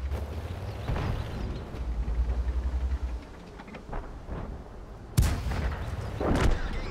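Heavy tank cannon blasts boom out in World of Tanks, with a sharp loud report near the end and rumbling engine noise and lighter shots in between.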